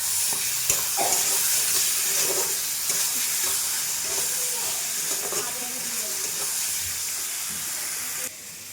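Mutton is sautéed with fresh homemade curd in a pan. It gives a steady, close hiss and sizzle with faint stirring knocks, and the sound drops away briefly at the end.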